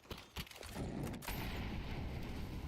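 Counter-Strike gunfire in a pro match, a couple of sharp early shots followed by a dense, sustained roar of firing and noise, quiet overall.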